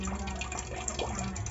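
Water runs from a 5-stage filtration water purifier under somewhat restrained pressure, a steady close trickle and gush with no talk.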